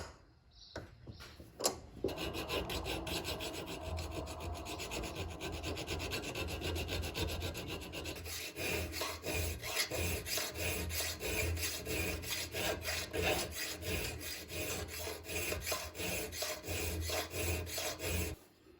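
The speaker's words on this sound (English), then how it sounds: "I should be able to just kind of file it out to shape." A steel file rasps back and forth over a hunting knife guard, shaping it in steady repeated strokes that sound close and fairly loud, with no talking.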